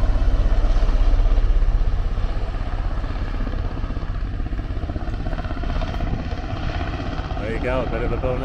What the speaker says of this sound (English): Coast Guard helicopter landing here at the Victoria Hospital landing zone.